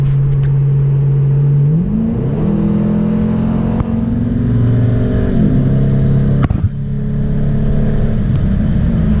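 A Ford Mustang GT accelerates hard from a 70 mph roll, its engine note loud and close, climbing through gears with clear shift dips and a steady powerful drone on a slight uphill.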